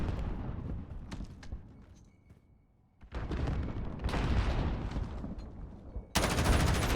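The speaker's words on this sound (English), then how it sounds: "Lots of shots over here over at A." Gunfire from Call of Duty Modern Warfare in a competitive 5v5 match, sounding as dense bursts of rapid shots at close range, broken by a brief lull before the firing resumes loudly.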